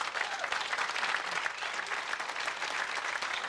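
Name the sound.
audience applause at a dinner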